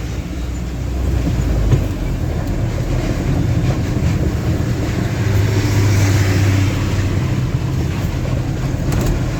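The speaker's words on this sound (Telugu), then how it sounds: "నేనైతే ఇంజన్ బ్రేక్ వేసుకొని నిదానంగా దింపుతున్నాను" A loaded lorry descends a ghat road slowly on engine brake, giving a steady low rumbling drone with wind noise that runs unbroken and fairly loud throughout, with no voices.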